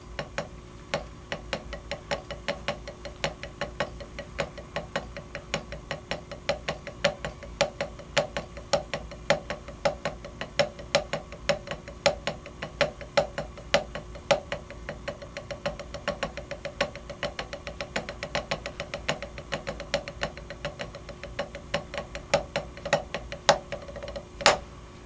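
Drumsticks tapping out a ride cymbal pattern as a pre-gig drum warm-up exercise, a long run of crisp, evenly spaced ticks with occasional accents, close up and unaccompanied.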